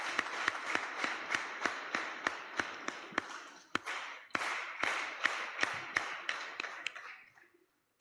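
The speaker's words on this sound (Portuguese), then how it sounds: "peço uma grande salva de palmas para os nossos estudantes" A parliament audience applauds students with sustained rhythmic clapping that holds steady, briefly dips, picks up again, then fades out near the end.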